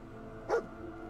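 A single short dog bark sounds in the Fallout 4 video game, a brief mid-distance woof over a steady low game ambience.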